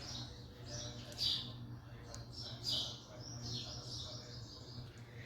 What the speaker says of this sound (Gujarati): સવારથી ઉઠે ત્યારથી પક્ષીઓના અવાજ અને બધું સરસ સાંભળવા મળે